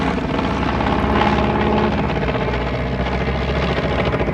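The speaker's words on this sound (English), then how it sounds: "hear the planes leave." Steady, loud roar of aircraft engines droning overhead as planes leave during a live sea war stunt show, a dense rumbling wash of propeller noise that holds without a break.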